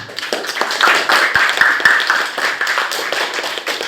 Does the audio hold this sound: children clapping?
yes